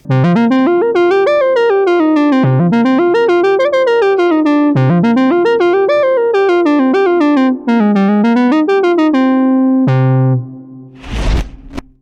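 A Behringer 2600 synthesizer plays a bright, brassy fanfare trumpet patch, its filter swelling open on each note through a loud rising and falling melody, ending with a held tone and a short burst of noise.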